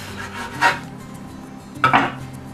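Pie dough for an apple pie is cut in half with a knife, giving two short, close scraping cuts against the board about a second apart, with quiet room tone between them.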